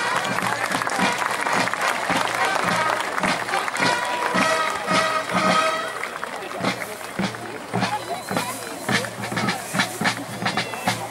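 Crowd cheering and applauding a parade of knights and warriors at Bad Münster am Stein-Ebernburg, steady dense clapping with shouts throughout, loud and close, with voices talking over it.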